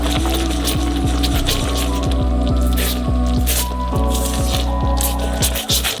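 Boiling pink sugar caramel is stirred, giving steady, sticky squelching and wet bubbling close by, with occasional louder squishes and no voices.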